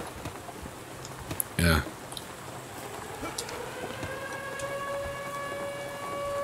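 Wailing siren in the video game Drug Dealer Simulator, rising in over a steady rain-like background with scattered clicks, a loud thump and a brief spoken word.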